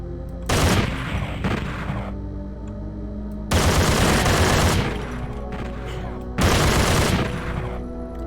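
Weapon fire from the shooter game Doom II, three sustained bursts of loud, rapid shots, each lasting over a second, separated by short pauses, close and dominant with no talk.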